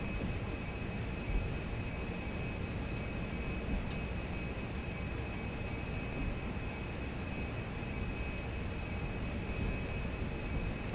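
An airliner taxiing in a flight simulator game, a steady loud engine hum with a constant high whine above it, unbroken, with a few faint clicks.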